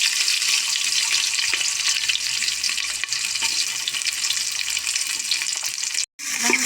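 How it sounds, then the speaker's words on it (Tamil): Onions, curry leaves and chilies sizzle in peanut oil as a steady, loud frying hiss. It runs throughout, drops out briefly near the end, then resumes. "வெங்காயம் மிளகாலாம் போட்டு நல்லா வதக்கி விட்டுக்குவோம்"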